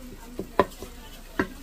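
Garlic being sautéed for carinderia-style pasta, with a soft sizzle under a few quick stirring knocks and scrapes of a utensil in the pan, close and fairly quiet.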